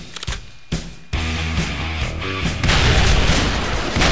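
Gunfire and explosive booms from the video game Doom, with sharp shots in the first second giving way to continuous loud blasting and game music, no talk.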